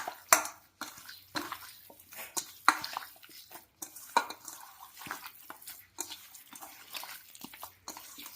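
Mutton pieces are mixed with spices in a pot for a cooker recipe, heard as irregular wet squelches and slaps with occasional clinks against the pot, close up and fairly quiet.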